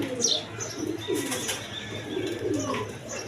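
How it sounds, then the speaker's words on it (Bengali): Crested pigeons give soft, repeated low coos close at hand, mixed with a few brief chirps and rustles, with no talking. "দেখেন একদম দেখার মতো কবুতর"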